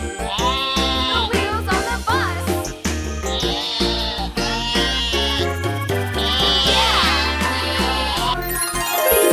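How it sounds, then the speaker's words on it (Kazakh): Sheep bleat loudly and close, a series of drawn-out wavering calls repeating one after another with no talk. "Қойдар та дейді."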